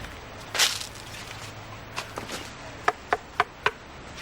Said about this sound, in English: That's the sound of a balsa wood tree